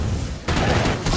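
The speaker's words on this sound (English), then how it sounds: "Shooting a bloater with this thing." Gunfire in the video game State of Decay 2, a close, loud burst of heavy shots fired at a bloater zombie, booming and dense over a noisy background.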